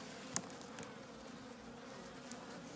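Honey bees buzz in a steady, close, continuous hum as their hive is opened for feeding, with one brief sharp click near the start and no talking.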